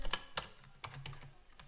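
A few quick keystrokes on a computer keyboard while writing Python code, sharp close clicks in a short irregular burst with a softer thud between them.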